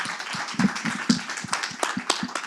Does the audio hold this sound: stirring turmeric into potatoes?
no